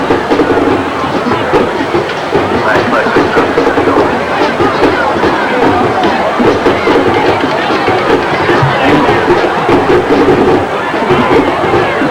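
A loud, dense crowd roars continuously at a 1991 Fairfield vs Homewood high school football game, a broad steady din filling the stands late in the third quarter.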